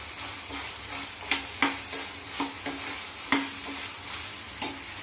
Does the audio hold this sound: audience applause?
no